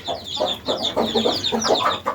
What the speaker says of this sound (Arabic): هذا الديك مالني